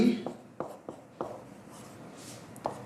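A pen or chalk writes out a matrix row operation in short, scattered strokes and taps, close and fairly quiet, with pauses between marks.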